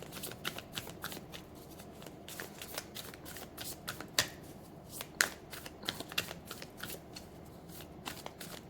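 Tarot cards being shuffled and drawn, a dense run of crisp riffling flicks and soft slaps, close and steady, with brief sharper snaps as cards are pulled.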